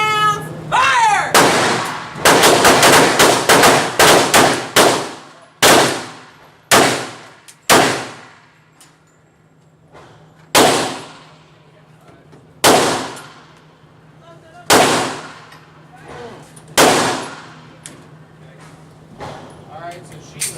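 Handgun fire at an indoor shooting range, Range USA, with about a dozen sharp, loud shots ringing out in an uneven sequence, first in quick bursts and then spaced a few seconds apart, over a steady background hum and brief voices at the start.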